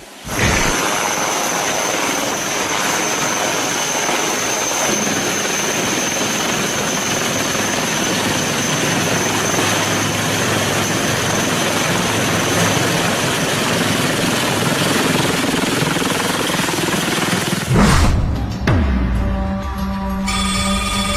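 A lightweight carbon-fibre-bodied Indian Army helicopter drones loudly and steadily, rotor and engine noise filling the air, then the sound cuts abruptly near the end.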